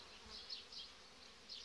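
Honeybees buzz at a hive in an apiary as a frame is lifted, a faint, steady high drone with a few brief swells in pitch and loudness.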